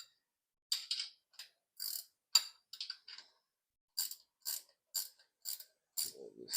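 A ratchet wrench tightening a bolt on a 500ci big block Chrysler engine, heard as about a dozen short, crisp clicking bursts in an uneven rhythm, close and fairly quiet, with a brief low thud near the end.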